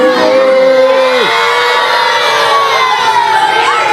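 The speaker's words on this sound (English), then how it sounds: "Are you booing me? Boo this man." A pro wrestling arena crowd boos loudly, a dense, sustained roar of many voices with jeers and whistles rising above it, up close and filling the whole stretch.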